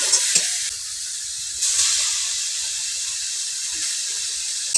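Grated potato and tomato stirred in a hot pan for a potol curry, a soft hissing sizzle with occasional spatula scrapes, fairly close and steady.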